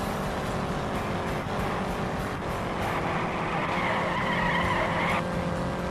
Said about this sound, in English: A little bit of skidding going on.